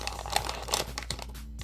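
Plastic packaging of a Calico Critters toy set torn open by hand after a scissor snip, a short close burst of crinkling and ripping with quick rustles and crackles.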